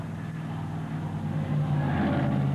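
An El Camino's engine idles and rumbles at the starting line of a two-wheel-drive super modified tractor pull, a steady low drone with a faint rise in revs toward the end.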